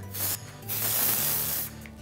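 Dry instant volumizing hair spray is sprayed onto hair while a bun is styled, giving two short, close hissing bursts with a brief pause between them.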